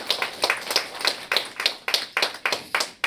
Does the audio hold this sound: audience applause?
yes